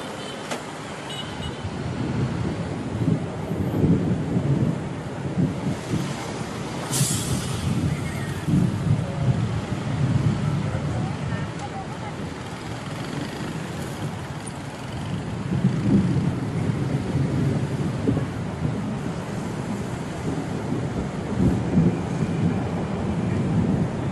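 Thunderstorm over Bangkok, deep rolling thunder rumbling in long swells beneath a steady wash of rain and distant traffic noise, with a brief sharp crack near the middle.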